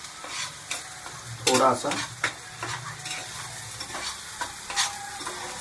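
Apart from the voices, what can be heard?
masala spice paste roasting in a pan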